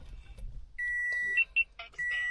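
A 2014 Toyota RAV4's dashboard chimes as the ignition is switched on with a blade-style key: a steady electronic tone followed by a few short beeps, then another sustained tone, clear and close in a quiet cabin.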